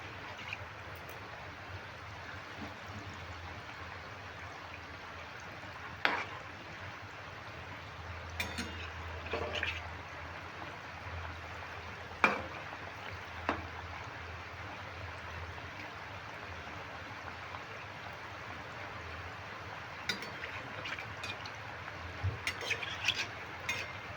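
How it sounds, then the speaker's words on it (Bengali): A spatula stirs around a kadai over low background hum, giving sparse, faint scrapes and a few sharper clinks at irregular intervals, close by with no talking. "প্রথমে আমি এই কটাই দিয়ে দিলাম আর একটা খুন্তি করে আমি এইভাবে একটু নেড়ে দিচ্ছি"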